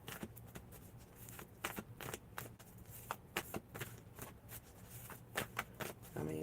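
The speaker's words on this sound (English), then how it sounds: "I'm shuffling though." Playing cards shuffled up close, a quiet series of repeated riffling bursts and soft flutters in an uneven rhythm.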